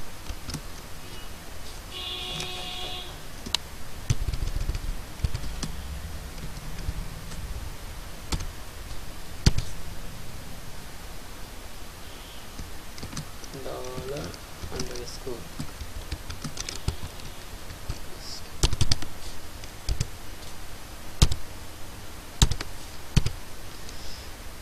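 Computer keyboard typing PHP code, with quick irregular clicks and taps in bursts, close and fairly quiet, along with occasional mouse clicks and low background noise.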